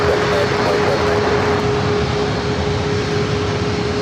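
Airliner taking off from a runway at an airport, a loud, steady engine roar that holds constant throughout with a sustained tonal whine above the broadband rumble.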